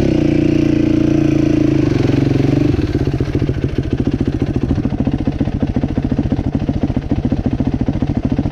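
A dirt bike engine on a trail, loud and close, holding a steady high drone before dropping into a rapid, rough, chugging putter as the rider works the throttle.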